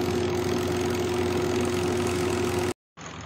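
An LG automatic washing machine's drain motor runs with a steady, loud electric hum and strong low tonal buzz, then cuts off abruptly before a brief return of quieter noise.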